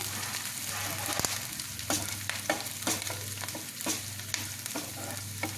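Curry leaves and masala sizzle steadily in hot oil while a spoon stirs and scrapes the pan in repeated strokes, close and fairly loud; the cooking is for a tomato-free egg roast.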